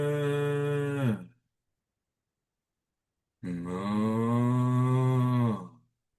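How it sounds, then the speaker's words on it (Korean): Two long, loud cow moos, one brief call and then a longer drawn-out one after a silent gap, both close and alone without talk. "정겨운 고향의 소 울음소리처럼"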